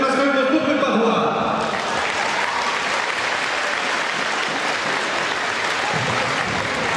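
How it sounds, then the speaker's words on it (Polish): At a Christmas charity auction in Łowicz, the crowd bursts into loud, sustained applause that follows a brief voice and carries on steadily as a dense wash of clapping. "gorącymi oklaskami"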